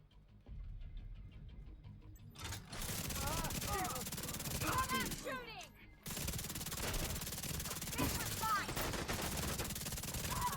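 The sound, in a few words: gunfire from a rapid-firing weapon in the video game The Division 2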